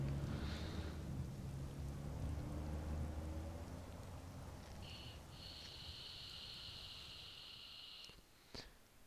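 Rain in the video game Life Is Strange, a steady hiss of falling drops with low rumbling at first, joined later by a sustained bright tone and a sharp knock near the end.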